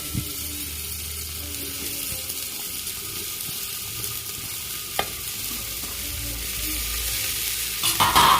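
Bitter gourd and tomato sizzle steadily in a hot pan, with soft stirring scrapes and a sharp clink partway through, the frying noise rising and clattering near the end.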